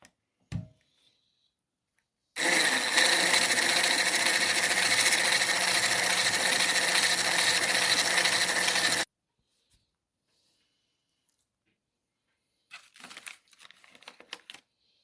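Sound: whisking eggs

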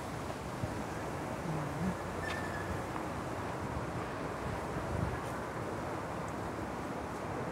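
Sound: strong wind at the seaside

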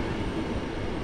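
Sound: train departing Kraków Główny station

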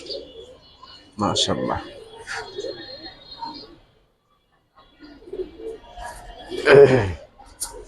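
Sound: pigeons cooing

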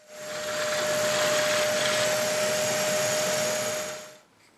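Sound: power drill drilling holes

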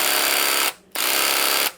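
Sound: KL Pro cordless reciprocating saw running

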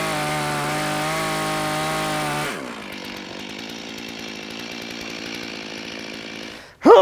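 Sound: chainsaw cutting a log at a sawmill

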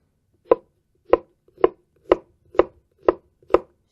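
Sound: knife finely chopping onion

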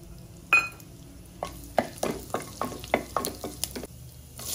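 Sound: whole spices frying in hot oil

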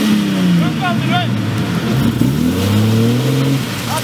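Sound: off-road vehicle engine revving

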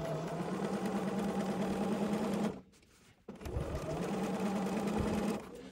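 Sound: sewing machine stitching up a seam

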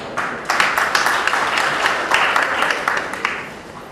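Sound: audience applause for workers

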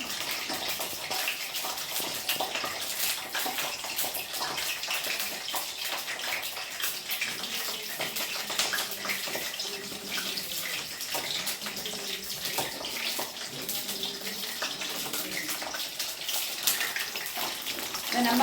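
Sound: running water, washing vegetables

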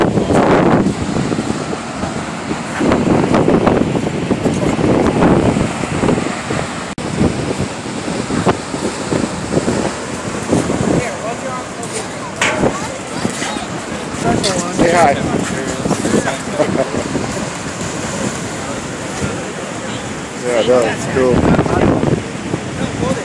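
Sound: choppy surf with spray hitting the pier in wind

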